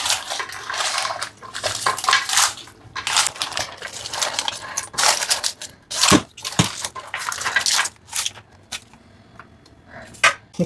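Onion with cinnamon and cloves stirred in a pot, a busy run of scraping spoon clatter and metallic clinks with rustling, up close and fairly loud.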